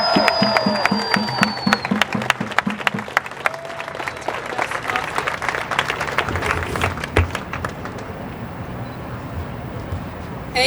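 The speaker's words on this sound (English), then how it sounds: "Y'all need to give a big round of applause up for Lindsay." A rally crowd claps for a longtime movement organizer, a dense patter of hands that swells early and then thins out, with voices calling out over it and some background chatter.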